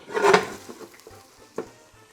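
An omelette is flipped in a pan: a sharp scraping clatter, then a soft sizzle and a few light taps of metal on the pan, close and fairly quiet.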